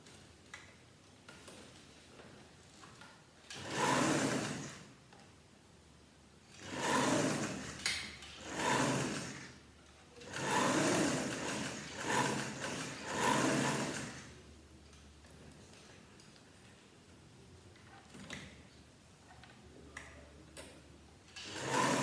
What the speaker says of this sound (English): Alright, so I stitch my shoulder seams.